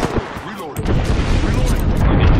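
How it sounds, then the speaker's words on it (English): Mortar strike explosions in Apex Legends: a sharp blast, a brief lull, then a heavy rumbling barrage of booms and gunfire that stays loud and continuous. "They're gonna get mortared. I mortared them."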